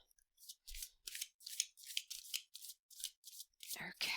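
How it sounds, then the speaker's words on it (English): A deck of Elemental Oracle cards is shuffled by hand, giving a quick run of about a dozen crisp riffling bursts at close range, ending in a brief rustle. "I'm going to give it one more shuffle here."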